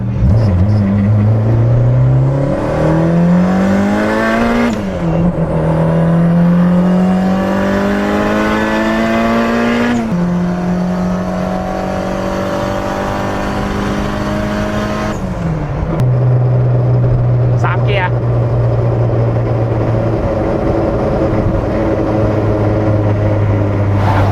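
A tuned manual-gearbox car making nearly 400 hp accelerates hard and close, its engine note climbing through three gears with sharp drops at each shift, loud and steady with no voices.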